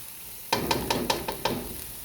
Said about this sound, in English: my onions, my shallots, my garlic, all sauteing in this wok